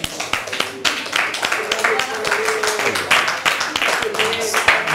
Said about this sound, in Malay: Okey, tepuk tangan bagi Gading.